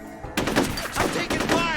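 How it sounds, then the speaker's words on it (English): Gunfire in the video game F.E.A.R. rings out as a dense burst of shots that starts abruptly and carries on through the whole clip, loud and reverberant, with bursts overlapping one another. "I'm taking fire!"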